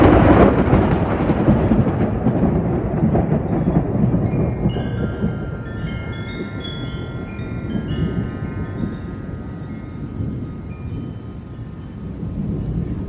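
Thunder from a huge thunderstorm with lightning and hail in Middleburg, a loud broad rumble that rolls continuously and slowly fades over about thirteen seconds, with faint chirps on top.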